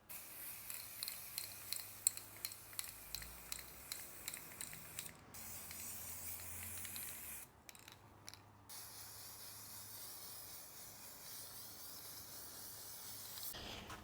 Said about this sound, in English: I'm gonna start spraying and see how it goes